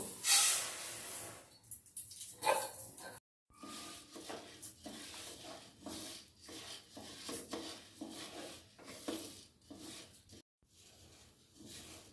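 Lentils (dal) fried in a hot wok, with scraping and stirring clatter and a soft sizzling hiss that runs through the whole stretch, broken by a few brief pauses.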